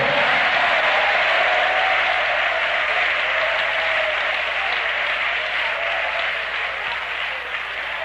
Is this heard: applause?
yes